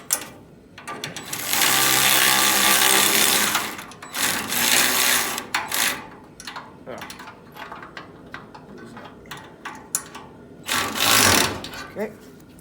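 A ratchet tightens a bolt on an intercooler bracket on a 1952 Chevy with a turbocharged 5.3 engine, giving a long run of rapid, loud clicking and a second short burst later, with people talking in between.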